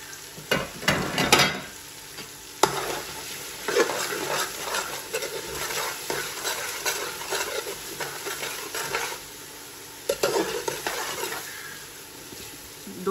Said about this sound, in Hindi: दो से 3 मिनट तक हम इसको भूनेंगे।